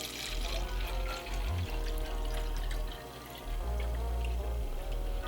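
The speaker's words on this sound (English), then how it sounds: "I'll just take it and pour it in there." A homemade health drink is poured into a container, a steady close gurgling stream running for several seconds with a brief dip midway.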